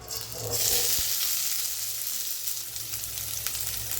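Chopped onion frying in a little oil in a kadai for a fenugreek-leaf garlic gravy, a steady soft sizzle that swells after half a second and holds evenly.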